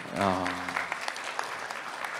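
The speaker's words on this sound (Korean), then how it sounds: "뜨거운 박수 한번 보내주세요." Applause from the audience at a Yeongdeungpo district public debate on cleaning, breaking out after a speaker finishes; a voice sounds over the start before the clapping continues on its own.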